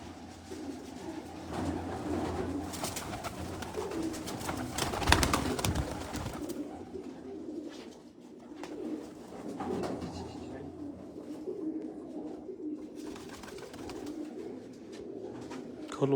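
Pigeons coo repeatedly at close range in a pigeon-keeping setting, soft low burbling calls recurring over a steady background hum with faint rustling.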